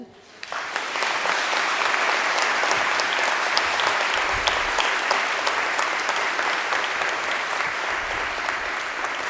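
Audience applause fills a church during a Christmas mass in Lyster, steady, dense clapping from a large congregation that starts abruptly and carries on at full strength throughout, with a few faint voices underneath.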